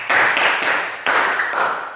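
A class of students claps together in a classroom, giving two loud, rhythmic rounds of group clapping about a second apart, close and without speech.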